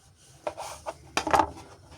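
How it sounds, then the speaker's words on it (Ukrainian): A knife cuts through fresh garden vegetables on a board, a few soft close crunching strokes with a short sliding scrape, in otherwise quiet surroundings. "Вирізаємо там, де хвостичок, і продовжуємо різати далі."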